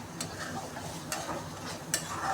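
Fish goes into a pan of spice paste that has been cooked down for 20 minutes. A soft background sizzle runs under three sharp scraping stirs spaced about a second apart.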